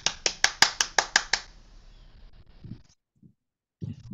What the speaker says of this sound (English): I would like you to all clap for United for Human Rights